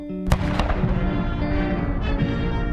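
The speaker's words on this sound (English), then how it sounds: "Cannons fired off a 21-gun salute as Hail to the Chief played" Cannons firing a 21-gun salute at a presidential farewell ceremony in Washington, D.C., with a sharp, loud report and its echo near the start, over sustained band music playing throughout.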